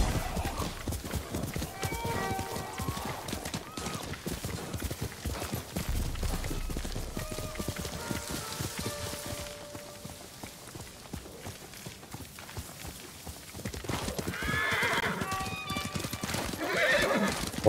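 Horse hooves clip-clop at a gallop through a Ghost of Tsushima game scene, with neighs and whinnies rising over the steady, fairly loud hoofbeats and game music tones.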